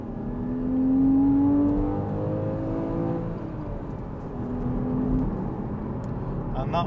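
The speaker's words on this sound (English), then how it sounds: "So I'll drop this from third back to second." Porsche Cayman 981 with a power kit revs hard after a downshift from third to second gear, its engine note climbing toward about 7,000 rpm near 65 mph, loud and close with a brief easing before rising again.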